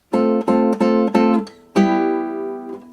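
Acoustic guitar barre chords from a song lesson: four quick strummed chords in a steady rhythm, then a final chord left ringing and fading, close and clear with no voices.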